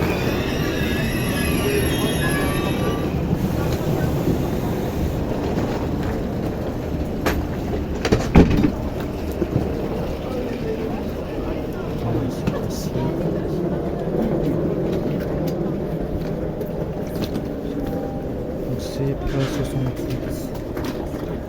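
A TGV high-speed train rumbles steadily at a station platform with a loud, continuous low roar, a brief clatter partway through, and people talking over the noise.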